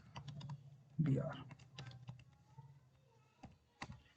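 PHP code is typed on a computer keyboard in a steady run of close, light keystroke clicks that thin out into a few scattered taps, with a brief voice near the start.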